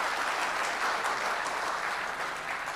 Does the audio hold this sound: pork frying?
no